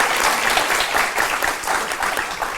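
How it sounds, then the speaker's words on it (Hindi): A crowd at a poetry gathering claps loudly before a couplet is recited, a dense burst of applause in uneven waves lasting a few seconds. "जरा तालियां बजाइए तो मैं शेर सुनाऊं।"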